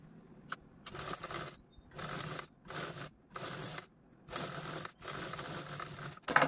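A sewing machine stitches a zip onto a shopping bag in a series of short, fairly quiet bursts with brief gaps between them, close by and with no voices.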